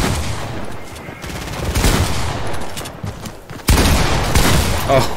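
Shotgun fire in the Fortnite video game: bursts of loud, close gunshots in rapid clusters, with a sharp heavy volley near the end, amid game noise and no clear talk.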